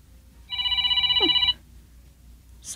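A cellphone rings with a bright electronic tone for about a second, loud and close, then cuts off into a quiet room.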